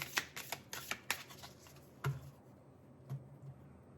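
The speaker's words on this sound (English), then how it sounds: "let me shuffle the cards quickly" Tarot cards flutter and riffle in a quick run of crisp shuffles, followed by a few softer taps as the deck settles, close and quiet.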